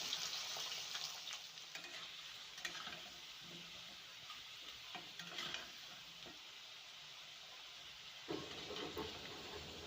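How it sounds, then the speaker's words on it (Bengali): Thin-sliced potatoes fry in oil with a soft, continuous sizzle, punctuated by scraping stirs and light clatter, heard faintly at a moderate distance with no talking. "আলুটা লাল লাল করে ভাজা হয়ে গেছে"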